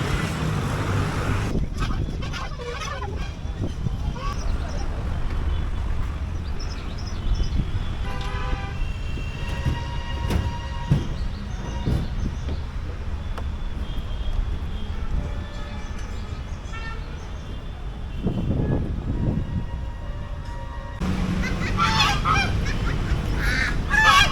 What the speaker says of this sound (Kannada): ಇಲ್ಲೆಲ್ಲ ಪಕ್ಷಿಗಳು ಭಾಳವ